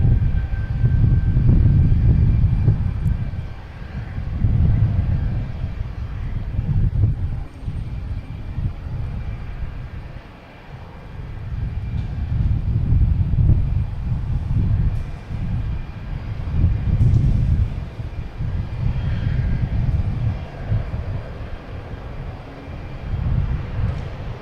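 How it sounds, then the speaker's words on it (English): A Southwest Boeing 737-800 arriving at Boston Logan from Chicago Midway makes a sustained low engine rumble, pulsing in waves over about 25 seconds, fairly loud and steady with no talk. "we got a Southwest coming in from Chicago Midway"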